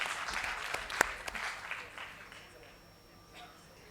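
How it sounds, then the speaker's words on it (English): Audience at a regional medical society conference clapping in a brief burst that peaks early and fades to scattered claps, moderately loud in a hall. "I expect a huge round of applause"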